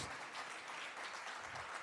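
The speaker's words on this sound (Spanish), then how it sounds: "Damos un fuerte aplauso a nuestros hermanos" A church congregation claps together in dense, even applause, a soft sustained patter heard from some distance.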